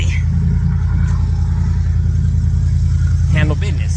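A 2014 Ford F-150 with the 5.0 engine idles right after a fuel injector swap, with a loud, steady, even low rumble throughout and someone talking over it briefly near the end.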